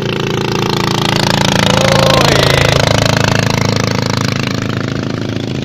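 Farm tractors working a muddy rice field in Suphanburi, puddling the soil, make a loud, steady engine drone close by. The roar is continuous and swells slightly mid-way.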